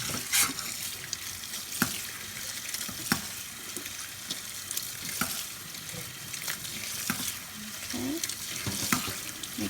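Cold running tap water splashes steadily over ramen noodles in a strainer, with occasional clinks and knocks of the metal colander.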